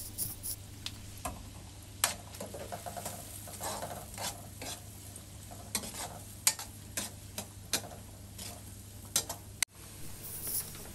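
Garlic sizzles in a pan for tuna pasta while a utensil stirs it, with frequent sharp scrapes and clicks against the pan over a steady frying hiss, close and moderately loud.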